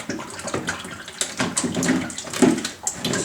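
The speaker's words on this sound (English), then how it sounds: "take this old bucket and I'm going to drain all the fluid" Transmission fluid pours from a Tuff Torq K46 transmission off a Husqvarna riding lawnmower, turned upside down into an old bucket, a close, uneven splashing gurgle with irregular glugs and no talk.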